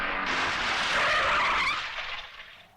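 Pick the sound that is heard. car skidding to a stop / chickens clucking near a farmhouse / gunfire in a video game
car skidding to a stop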